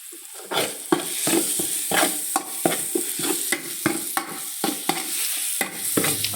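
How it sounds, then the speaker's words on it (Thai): Food stir-fried in a pan until golden, with a spatula scraping and stirring in repeated loud strokes over a steady broadband sizzle, close and without talk. "ผัดไปครับ ผัดไปเรื่อย ๆ ให้มันเหลืองให้มันหอม"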